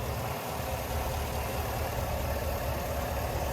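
A 2023 GMC Yukon XL Denali's 6.2 liter V8 idles with the hood open, a steady, close, full-bodied rumble that holds even throughout with no voices.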